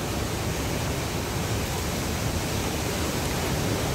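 Jacko Falls, a mountain waterfall in central Dominica, roars as a steady, dense, loud rush of falling water with no breaks.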